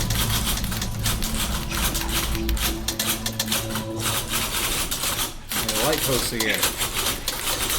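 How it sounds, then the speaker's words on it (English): Many typewriters clacking in the game The Beginner's Guide, a dense, continuous rattle of keystrokes close up, with someone talking over it throughout. "Oh god, there's a ton of typewriters."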